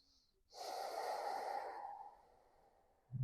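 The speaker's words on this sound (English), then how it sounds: "Breathe in and out of the nose." Slow breathing through the nose during a back-pain yoga pose, a single close, soft exhale-like airy rush lasting over a second and fading gradually, with no talk over it.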